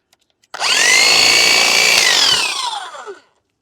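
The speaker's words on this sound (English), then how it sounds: "Let's go ahead and just pop all these tops off and get all these trees trimmed back." A loud power tool revs up and runs steadily for about two seconds, then winds down, as it cuts the tops off young moringa trees in a plant nursery.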